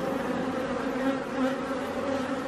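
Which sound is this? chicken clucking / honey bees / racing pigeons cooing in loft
honey bees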